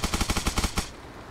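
Enemy automatic gunfire in the game Arma Reforger: a rapid burst of about eight sharp shots in steady rhythm, loud and close, then a short fading tail.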